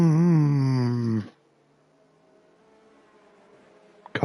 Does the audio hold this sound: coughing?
no